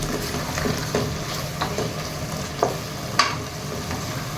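Spice paste for a kosha beef curry frying in a pan, a soft continuous sizzle broken by several sharp stirring scrapes and taps, moderately quiet with no talk.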